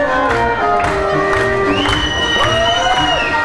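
A crowd at a local community event claps, cheers and whoops for performers of a costume show, loud and close, with children's shouts rising over steady applause.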